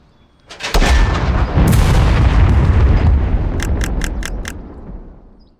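Artillery and small-arms fire trade in a World War II strategy game, a heavy opening boom followed by sustained rumbling barrages and a rapid burst of sharp gunshots near the end, loud and close.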